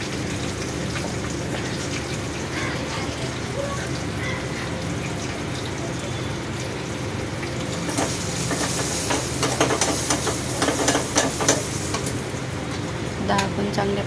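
Green chillies and turmeric sizzling in hot oil for a dal tadka, a steady low frying hiss with stirring that turns into louder crackling and spattering partway through.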